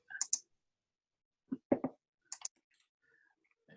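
A computer mouse clicks on a software button, giving a few sharp, quiet clicks in small clusters separated by silence.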